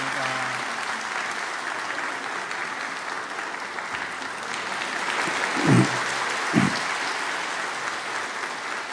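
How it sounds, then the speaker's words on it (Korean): A church congregation gives steady, soft applause to bless a child during a Sunday service, a continuous patter heard from across the sanctuary with a few low bumps near the end. "우리 박수로 이 아이를 축복합니다."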